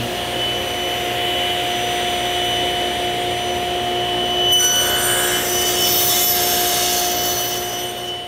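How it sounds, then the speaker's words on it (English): Wooden shelf pieces pushed through a saw on a sled to cut notches, heard as a loud, steady whine from the running saw, with a rougher cutting burst midway as the blade passes through the wood. "Just clamp this to my sled, and I'm gonna push it through, and then I'll rotate it and push it through again."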